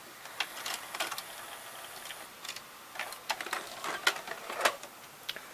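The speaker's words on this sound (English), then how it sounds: "Right there's the ejecting mechanism." The tape-eject mechanism of a Sony SLV-701HF VCR works with a quiet run of small mechanical clicks and ticks over a faint hum, irregular and close up.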